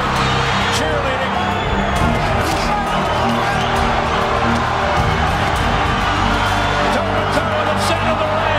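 A boxing arena crowd cheers and roars in a noisy, continuous wash of voices and whoops. Sharp bursts rise above a loud, steady hubbub.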